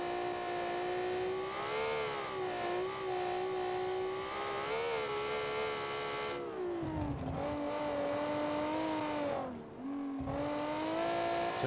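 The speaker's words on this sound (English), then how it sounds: "So this is a naturally aspirated V6," A naturally aspirated 270 horsepower V6 in a large cross-country racing SUV sings loudly and steadily near the listener, its pitch rising and dipping with throttle changes and a brief lift around the tenth second.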